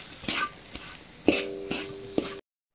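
Ginger, garlic and onions stirred in green curry paste and oil in a pan, with a few soft scrapes and knocks of a utensil over a faint, steady sizzle, recorded close and without talk.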